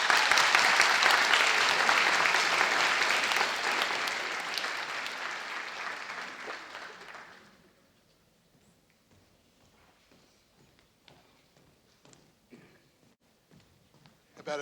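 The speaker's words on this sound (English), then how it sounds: "About another round of applause for Mark Frankel, everyone." An audience claps at a senior project announcement ceremony, loud sustained applause that fades after about seven seconds, leaving quiet room sounds and scattered faint claps.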